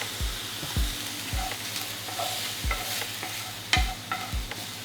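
Browned minced beef with a splash of fish sauce is stirred in a hot pan, a constant sizzle broken by repeated heavy scraping thuds of the spoon at a steady rhythm.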